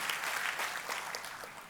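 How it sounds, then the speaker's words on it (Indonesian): Church congregation applauding for God during a sermon, a dense, sustained clapping roar from a large crowd, steady throughout and slightly fading at the end. "Kita kasih tepuk tangannya, boleh yang paling meriah buat Tuhan"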